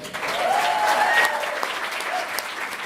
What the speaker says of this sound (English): Let's give it up for Jessie Dean.